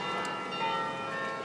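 Church tower bells ring in the tower in Groningen that holds 62 bells, a steady sustained tone with lingering resonance and no talk.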